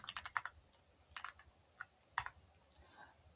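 Keystrokes on a computer keyboard as a command is typed into a Windows command prompt, coming in short clustered bursts of clicks with brief pauses, close and fairly quiet.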